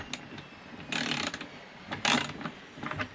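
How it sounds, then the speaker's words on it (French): A ratchet tightens the negative terminal nut on a 24V 100Ah lithium battery, a few short bursts of clicking with brief pauses between them, close and moderately loud. "je vais fixer le moins. Donc là pareil, je vais serrer"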